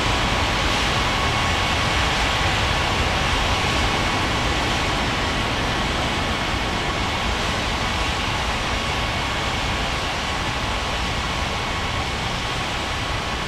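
Broadband, steady roar of an Aeromexico Boeing 787-800 airliner taking off from Tijuana airport, a constant heavy engine rush with a faint whine that holds level throughout, with no voices.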